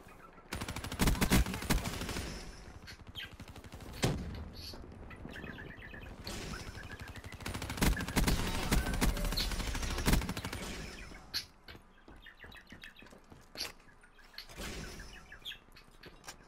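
Rapid automatic gunfire in Black Ops 3 crackles in dense bursts with sharp single shots, loud and close, alongside chirping bird-like game sounds.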